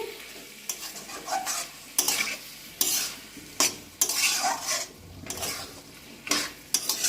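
A spoon scrapes and stirs spinach curry in a pan, mixing in red chilli powder, green chillies and a splash of water. Several distinct, fairly loud stirring bursts sound over a soft sizzle, with brief pauses between strokes.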